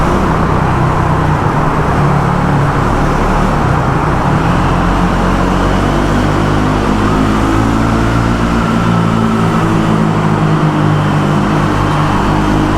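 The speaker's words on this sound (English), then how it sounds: "let's do a wee run through the Clyde tunnel and see what the Speed 400 actually sounds like" A 2024 Triumph Speed 400 motorcycle rides through the Clyde tunnel, its steady engine drone loud and close and booming off the tunnel walls, with rising, shifting pitch as it holds speed amid the tunnel's roar; no voices.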